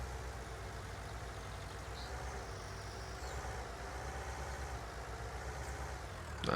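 A farm tractor drives along a trail with its engine holding a steady low rumble and drone, close and continuous, rising slightly louder at the very end.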